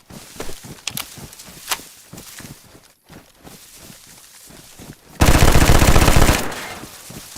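Gunfire in the video game DayZ: several sharp single shots at first, then a loud, sustained burst of rapid automatic fire near the end, close and prominent.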